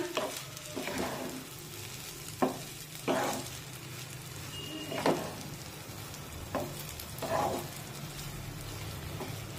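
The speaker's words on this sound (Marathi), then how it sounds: "आता याला उलटण्याने खालीवर करून घेऊया।" A spatula stirs cooked, fluffed semolina sheera in a pan, scraping in periodic strokes over a soft continuous sizzle, moderately close, with no voices.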